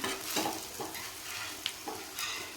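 Aloo snacks fry in oil over a low gas flame while oil gets spooned over them, giving a soft sizzle with repeated scraping and splashing strokes up close, no talking.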